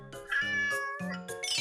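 A plump, overweight house cat meows repeatedly up close, giving several loud, drawn-out cries in quick succession with no talk around them.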